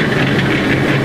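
Steady, loud rumbling churn of a cement mixer turning mortar, a continuous mechanical drone with no breaks.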